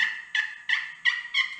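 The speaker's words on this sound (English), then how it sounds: "to the outside of the call it's a lot more higher pitched. Like it sounds like a really young hen" A slate turkey call is scratched near its outer edge to make a high-pitched young hen call, four quick, bright yelps in an even rhythm, close and clear.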